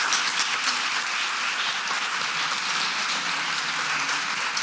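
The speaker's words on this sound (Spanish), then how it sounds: "Aplauso." An audience applauds at the end of a talk about the video game The Stone of Madness, a steady, even wash of clapping that holds at moderate loudness throughout without swelling or fading.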